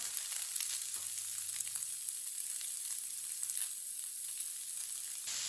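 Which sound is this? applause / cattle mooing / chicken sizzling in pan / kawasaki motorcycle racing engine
chicken sizzling in pan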